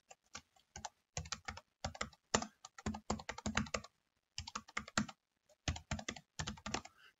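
Rapid bursts of keystrokes on a computer keyboard, clattering in quick runs with short pauses between them, close and fairly quiet with no voices.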